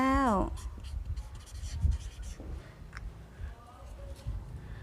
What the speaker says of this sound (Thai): แล้วก็เขียนเบอร์ไว้นะคะ number 39